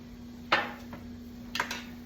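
Egg-washed sourdough bagels set down onto a baking pan, giving two soft, brief clunks of dough and metal about a second apart against a quiet kitchen background, with a steady faint hum.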